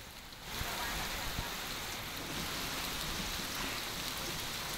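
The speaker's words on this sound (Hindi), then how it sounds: "ओलावृष्टि।" Steady, dense rain with hail pelting down during an unseasonal March storm in Madhya Pradesh farmland, a constant close hiss and patter with no voices.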